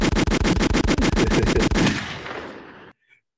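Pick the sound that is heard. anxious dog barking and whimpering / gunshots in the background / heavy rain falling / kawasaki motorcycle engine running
gunshots in the background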